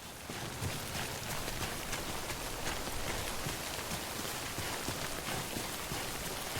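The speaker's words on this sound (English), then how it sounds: "Don't stay out in the rain any longer than you have to." Timefall rain from the video game Death Stranding pours steadily, a dense patter of drops hitting surfaces with no break and no voices over it.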